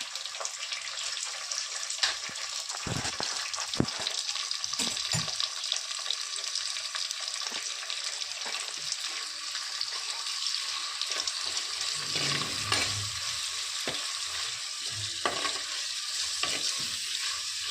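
Curry leaves, onions and green chillies fry in hot oil, a steady bright sizzle with occasional stirring scrapes and clinks, close and moderately loud, no talking.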